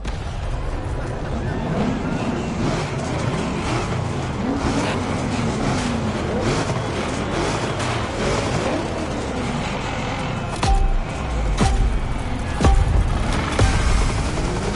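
A blue Chevrolet Caprice lowrider with gold wheels runs in the racing game The Crew Motorfest, its engine droning and revving steadily alongside other race cars, with a voice talking over it.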